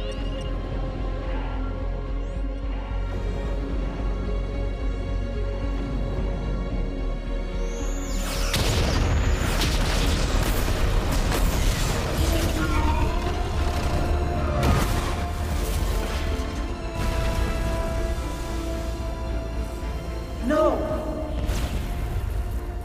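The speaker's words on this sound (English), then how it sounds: "Fire torpedoes." Starship torpedoes firing and exploding in a Star Trek: Picard space battle, a sequence of loud booms, whooshes and crashing blasts that builds after a quieter stretch with people talking.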